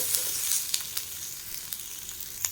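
Onions sautéing until brown in a pan for restaurant-style mushroom gravy, a continuous close sizzle with occasional sharp spatula clicks and scrapes punctuating it.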